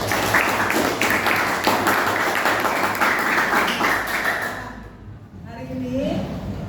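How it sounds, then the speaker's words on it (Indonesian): Applause from a classroom of students, a dense spread of many hands clapping steadily for several seconds before fading out, with a voice speaking briefly near the end. "Tepuk tangan."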